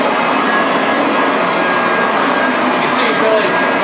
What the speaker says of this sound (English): It's a 67-pound vacuum cleaner with a nice soft nylon brush, and it's pretty intense, and it really does a great job at soil removal.